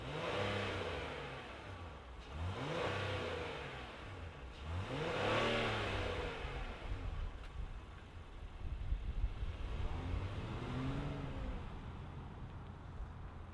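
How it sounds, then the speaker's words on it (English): 2026 Acura MDX A-Spec V6 engine, heard from close by, swelling through several distinct revs with rising and falling pitch over a steady idle rumble; no talking. "let's fire up this V6 and hear what it sounds like"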